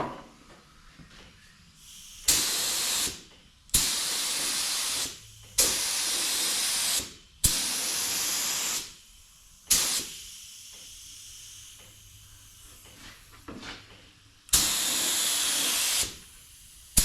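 Aerosol primer sprayed onto Peterbilt 362 truck parts in a workshop: six close, loud hissing bursts of one to two seconds each, separated by short pauses with faint background noise.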